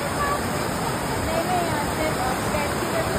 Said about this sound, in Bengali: এখান থেকে ঝর্ণা বেরোচ্ছে, সাংঘাতিক স্রোতে এখান থেকে জল বেরোচ্ছে